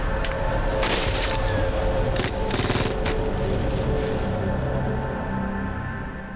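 Dense gunfire crackles throughout during the Battle of Saipan, with a sniper shooting and Marines firing back; bursts of sharp reports overlap in a continuous loud fusillade with no talking.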